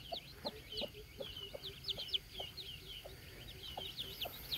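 A hen clucks in a steady rhythm, a dozen or so short calls, while many chicks peep high and continuously around her, close by and with no talking.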